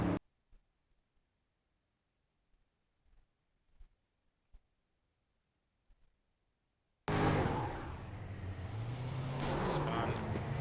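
A stock car slides and spins at Oran Park in an iRacing Stock Car Brasil Cup race. After several seconds of near silence with faint ticks, a loud engine roar with tyre scrub bursts in and stays close and steady, with a sharp squeal near the end.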